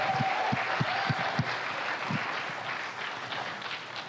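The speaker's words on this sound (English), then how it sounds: "Please give them a round of applause for all the work they did in making tonight happen." Audience applause in a hall at an evening event, a steady wash of many hands clapping at moderate distance, with a few louder nearby claps early on before it thins and fades.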